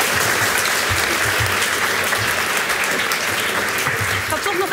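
Steady, dense applause from a student debate audience fills the room at a constant loudness, a wash of many hands clapping with faint murmurs underneath.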